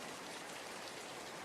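Constant steady rainfall, a soft dense hiss of drops that stays even and unbroken, moderately faint and without any other sounds.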